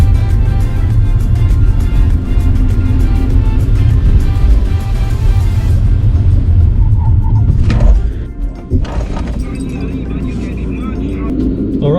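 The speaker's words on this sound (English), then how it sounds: "I'm gonna bring it to 30 kilometers an hour and then hard on the brakes." A BMW 330i M Sport G20 accelerates to about 30 km/h, then brakes hard: steady engine and road rumble with cabin noise, shifting abruptly near the end as the car slows and settles.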